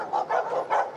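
Tethered dogs barking at night during a firefighter call-out, three quick, evenly spaced barks at moderate distance with no talk over them.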